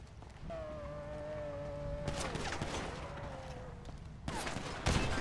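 Gunfire in GTA 5 roleplay during a police transport: a rapid burst of shots late on, loud and close, after a stretch of engine whine and a siren-like tone with steady background noise.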